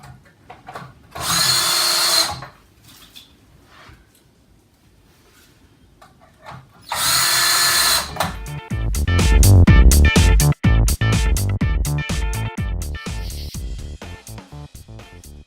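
A power drill drives screws into an LED light fixture, giving two short separate whirring bursts followed by a longer stretch of rapid clicking and rattling clutch noise as the screws seat, all close and loud.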